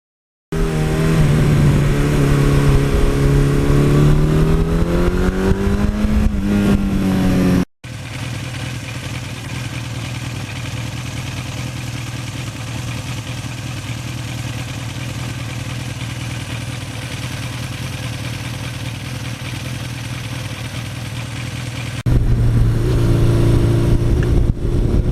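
A 1982 Suzuki GS1100E motorcycle rides along back roads, its engine humming steadily, rising in pitch as it accelerates, then a long stretch of cruising drone with wind rush, close and loud.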